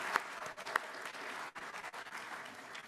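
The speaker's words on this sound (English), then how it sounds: "let's give him a nice round of applause" A congregation gives a round of applause at a worship service, dense steady clapping filling the room for a few seconds with a couple of sharper claps standing out near the start.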